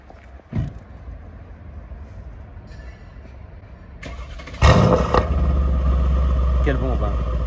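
A Mercedes C63 AMG with 640 hp and downpipes starts up after a short cranking burst, catching into a loud, close, rough idle that holds steady, with quiet background noise before it.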